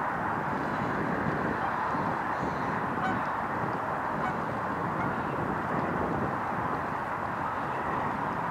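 A barnacle goose with a group of greylag geese honks repeatedly outdoors, a dense, continuous chorus of calls at moderate distance over steady wind and background noise.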